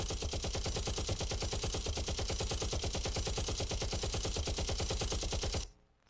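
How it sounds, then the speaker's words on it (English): A Gatling gun fires rapidly in one continuous, loud, evenly spaced stream of shots for several seconds, then stops abruptly. "he pulled out a Gatling gun and started blasting away in his direction"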